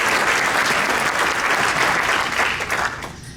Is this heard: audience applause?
yes